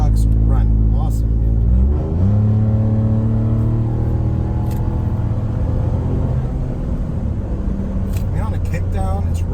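A 2018 Ford Raptor pickup with the EcoBoost engine and a performance exhaust revs up, pitch rising sharply then settling into a loud, steady drone, with someone talking over it.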